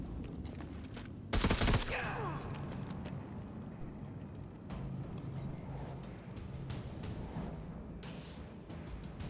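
A stub gun firing in Necromunda: Underhive Wars: one sharp, loud burst of shots early on, followed by a low, steady hum with faint talk.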